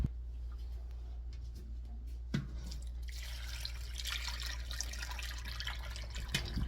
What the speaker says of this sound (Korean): 이렇게 해놓고 만들어 놨던 국물을 부어 줄 겁니다.